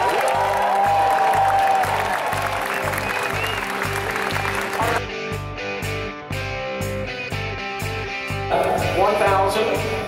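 A loud crowd claps and cheers over pounding background music at an event celebrating a top income earner. The applause stays continuous and dense the whole time, with voices mixed in.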